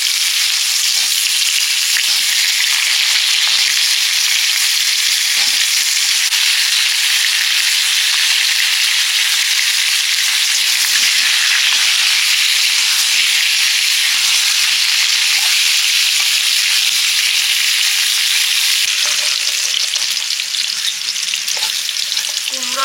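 Pumpkin and potato pieces fry in a pan with a little turmeric and some water, giving a loud, steady hiss and sizzle with scattered sharp spattering pops throughout.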